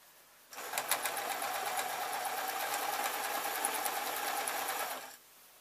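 A sewing machine stitching a padded dust cover starts up, runs in one steady fast burst for about four and a half seconds, then stops, close and fairly quiet.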